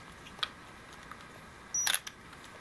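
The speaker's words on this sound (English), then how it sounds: "Oh, I have the self timer on." Quiet room tone, then a soft click followed by a brief mechanical whir-and-snap with a thin high chirp as the self-timer of a Mamiya U camera runs.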